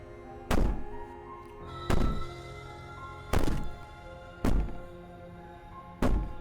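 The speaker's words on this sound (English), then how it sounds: "Bang on the door all you want, it will only make you bleed out faster." In the video game Slay the Princess, someone bangs on a door. Five heavy, booming thuds land a little over a second apart, loud and close, each ringing out over a low steady hum.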